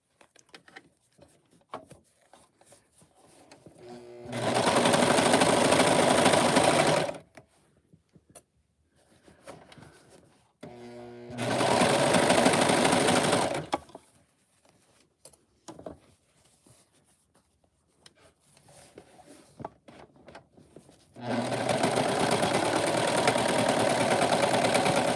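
A sewing machine stitches in three steady whirring bursts of a few seconds each, close and fairly loud, with quiet pauses and small handling clicks between runs.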